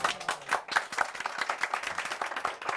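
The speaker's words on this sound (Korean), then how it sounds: "박수" A live audience claps at a book forum author talk, a dense run of hand claps close by and fairly loud, with no talking over it.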